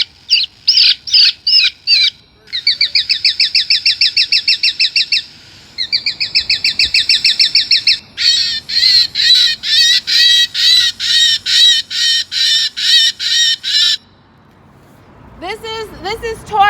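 A pigeon deterrent box blasts looped recorded bird cries outdoors on a city street, loud repeated bursts of shrill squawks and chattering calls in quick rhythmic trains with brief gaps, then a voice speaking near the end.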